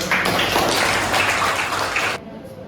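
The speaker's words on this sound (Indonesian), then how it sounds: "Tepuk tangannya." A classroom of students claps their hands in steady applause for about two seconds, then it stops abruptly, leaving a quiet room.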